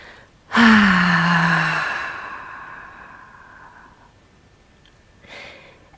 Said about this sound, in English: You can add an audible exhale